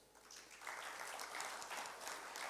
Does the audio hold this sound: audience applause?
yes